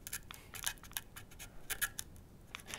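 A dull razor blade cuts through paper up close, giving faint, irregular scratchy snips and scraping strokes in a quiet setting, with no voices.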